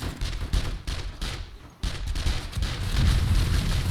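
Guns fire at zombies in the video game 7 Days to Die, a dense, continuous stream of loud, rapid shots with a brief lull midway before the barrage resumes.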